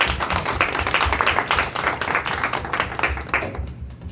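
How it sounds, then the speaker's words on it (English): A crowd of girls at an empowerment event claps together, a lively, moderately loud burst of many hands with a low rumble underneath that fades out near the end. "So give yourselves a round of applause, ladies."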